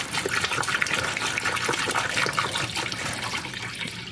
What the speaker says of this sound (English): start to pour this water, just cold water,